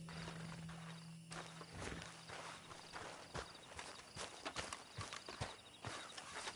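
A horse walks with irregular clip-clop hoof steps, fairly close, over a low ambient background with a brief hum at the start.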